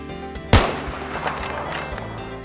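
A single sharp, loud sniper rifle shot lands a long-range headshot in a shooting video game, ringing out over a steady droning game-ambience hum, with faint clicks and effects trailing after.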